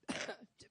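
A single short, harsh cough followed by a brief softer catch, heard up close and faint.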